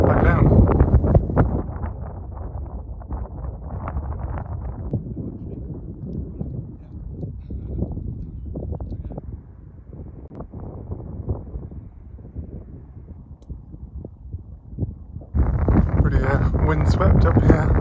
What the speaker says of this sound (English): Windswept up here on this side of the hill. Just a windy day.